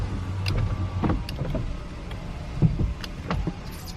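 A car with over 533,000 miles has its power windows run in turn, giving short motor whirs and clunks, fairly close and quiet, with a faint background hum.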